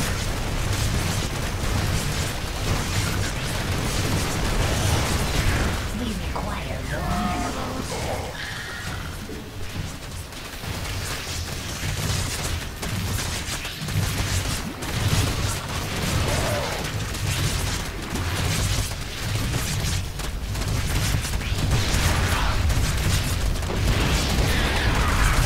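StarCraft 2 units fire and blow up in a dense, continuous barrage of shots and explosions that stays loud throughout, with a busy, crashing mix and no clear voices.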